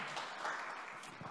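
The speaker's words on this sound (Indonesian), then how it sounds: "Beri tepuk tangan kemuliaannya buat Allah kita." A congregation at an online Indonesian church service claps in brief, moderately faint applause, a soft, scattered patter of hands over a short span.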